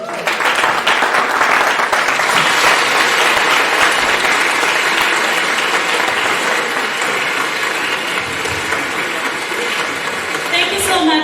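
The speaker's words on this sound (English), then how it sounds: "A round of applause again." Audience at a business networking event in Zambia applauding, loud continuous clapping that lasts throughout with a slight swell near the end. Voices are faintly mixed in.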